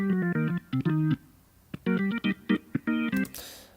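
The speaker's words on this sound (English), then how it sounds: "a rock organ part," An organ plays short, punchy chords in a choppy rhythm, bright and tonal, ending with a brief cymbal-like hiss.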